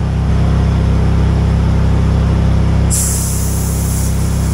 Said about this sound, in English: we're going to use this to throw a lot of volume of air into this tire